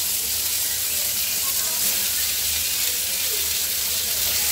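Potato pieces frying in hot oil for chow mein give a steady, even sizzle and hiss that stays close and constant throughout, with no pauses.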